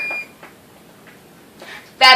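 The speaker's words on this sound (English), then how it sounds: "That beep was telling me my oven has reached 350 degrees" A kitchen oven sounds a short, bright electronic beep once it reaches 350 degrees, ringing out clearly at the very end after quiet stretches with faint speech.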